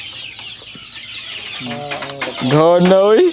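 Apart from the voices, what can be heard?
Darag native chickens clucking on farm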